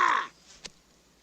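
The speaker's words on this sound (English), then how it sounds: "It's some kind of a bird." A crow caws once, loud and close, with harsh harmonic layers, followed by a brief faint thump in an otherwise quiet animated-film scene.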